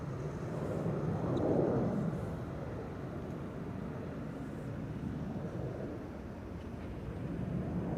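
A TUI passenger jet, a ten-year-old aircraft flying to Willemstad, Curaçao, departs Amsterdam Schiphol Airport with a broad, steady engine roar from a distance that swells briefly, then holds at an even level.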